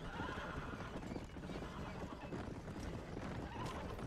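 A horse in the Red Dead Redemption multiplayer video game whinnies amid the clip-clop of hooves, the neigh rising out of a busy, fairly quiet game soundscape.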